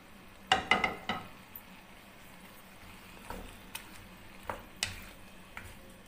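Vegetables stir-fry with chicken in a home kitchen pan. A faint sizzle runs underneath while a spatula scrapes and clatters in a quick cluster of knocks, then gives sparser single taps.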